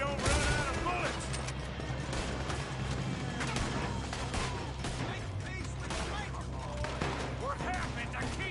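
Gunfire in a wild west video game shootout, dense rapid shots and crackling bursts continuing throughout, mixed with shouting voices and game sound.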